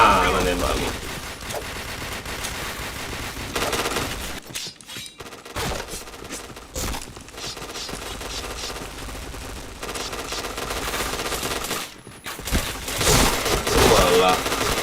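Gunfire in the Point Blank video game, with continuous rapid automatic bursts that run loud throughout, broken by a few brief pauses, and a voice talking underneath.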